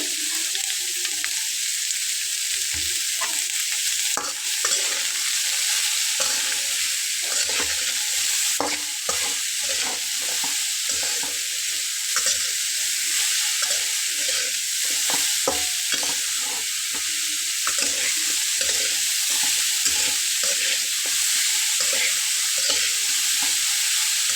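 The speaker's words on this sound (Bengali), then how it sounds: "চুলার আঁচটা কিন্তু বাড়ানো রয়েছে বন্ধুরা, এটাকে খুব ভালোভাবে নেড়ে চেড়ে" Cauliflower and spices fried and stirred in a hot pan over high heat, giving a steady, close sizzle broken by frequent scraping and clinking stirs, with no talking.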